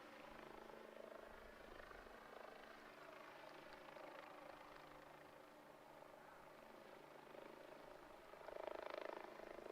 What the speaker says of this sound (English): We've got a very low chopper flying overhead, as I'm sure you can hear through my mic.